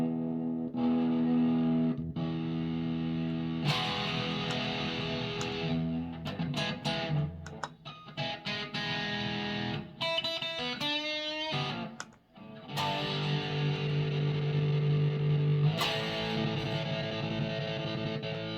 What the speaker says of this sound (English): Get some distortion.